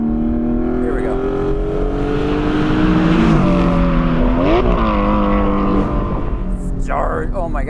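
Naturally aspirated 4.5L DeMan-built Porsche 718 Spyder engine with headers, loud in-car recording of the engine revving and climbing through gears with rising, falling pitch sweeps and a brief shift, strong and continuous.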